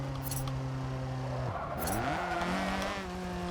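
A car driving in the Forza Motorsport 7 racing game, with a loud, steady engine whine that drops sharply as it shifts and then climbs again, close and continuous, with faint tire noise over it.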